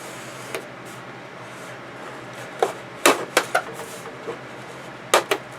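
X-Acto blade cutting into a plastic model part for torpedo tubes, a few sharp scraping clicks and cuts spaced irregularly over quiet room noise.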